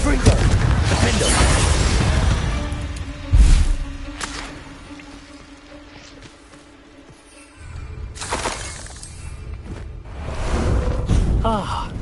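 Spells cast in Hogwarts Legacy, including Glacius, Expelliarmus, Bombarda, Descendo, Confringo and Depulso: several sharp booms and shattering bursts with whooshes, loud and close, separated by quieter lulls amid game sound and speech.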